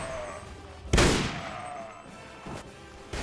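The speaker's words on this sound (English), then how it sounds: "I'm firing straight at them." Gunfire in the modded video game Mount and Blade Warband: one loud close shot cracks out, followed by a softer distant report a moment later over faint battle ambience.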